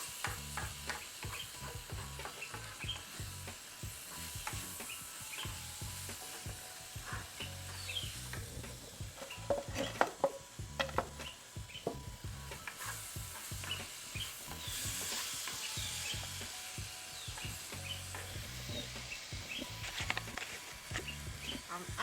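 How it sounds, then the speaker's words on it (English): Roselle fried rice with crab and mushroom is stirred in a hot pan with Maggi seasoning, a steady sizzle under repeated scraping and clattering of the utensil, close and continuous, with brief bursts of louder clanking. "Give it a stir."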